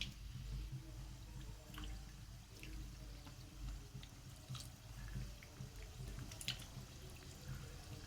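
Sweet kotkoti dough pieces frying in hot oil in a wok over medium heat, giving a steady soft bubbling sizzle with faint crackles and pops, continuous and close, with no talking.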